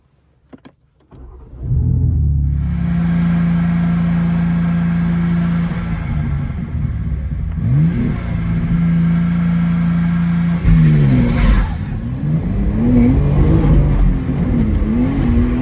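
BMW M2 G87 engine revving while driving, a steady loud mid-pitched drone that climbs and dips through gear changes, with a sharper rise in revs near the end.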